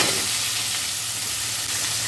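Taro, potato and vegetable stems fry in a wide metal basin after a cumin tempering, giving a dense, continuous close sizzle with a faint hiss and no speech.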